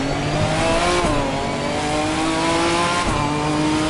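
Ginetta GT4 race car engine in the ACC racing game, a loud close steady drone with sharp pitch drops at two gear shifts, no voices.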